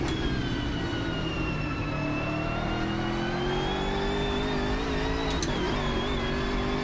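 A GT3 race car engine in the Automobilista 2 sim racing game, a loud continuous drone with pitch climbing through the gears and an abrupt downshift blip near the end.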